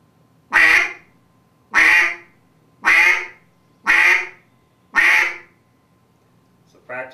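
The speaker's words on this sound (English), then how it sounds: "So it's just your tongue going quack, quack, quack," A Duck Lander duck call blown in a basic quack: five loud, close, evenly spaced quacks, each a short honking burst, with the start of a sixth at the end.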